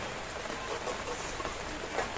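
Heavy rain pours down outside a home's outdoor cooking area, a faint, even hiss of drops that runs on without a break.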